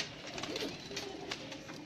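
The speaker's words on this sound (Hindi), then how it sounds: "ये हैं जी गोल्डन कबूतर उस्ताद काशिफ हमीद ऑफ मुल्तान के गोल्डन कबूतर हैं ये जी" Golden pigeons cooing in a Multan loft, soft repeated coos under steady background noise, no voices.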